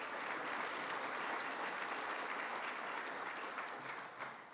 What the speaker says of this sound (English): So give them a round of applause today